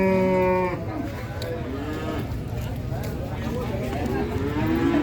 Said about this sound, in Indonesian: Ini untuk suasana pasar sapi Jetis Ponorogo